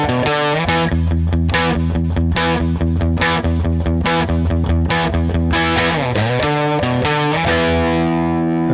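Distorted electric guitar playing an intro riff at a quicker tempo, with chugging low notes repeating in a tight rhythm and a sliding bend near the end, loud and continuous with no talking.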